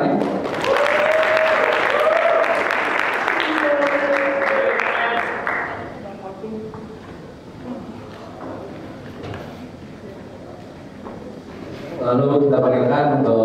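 An audience claps for student board election candidates at a school debate. Loud, steady applause runs under an announcer's voice for several seconds, then thins out, and a second burst of clapping rises near the end.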